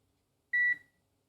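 A multimeter gives a single short, clear electronic beep during a continuity check on a real-time clock circuit. The beep is close and lasts about a quarter second, with quiet before and after.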